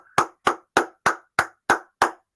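Seven evenly spaced claps ring out, crisp and close, a single person's steady applause at the end of an online talk.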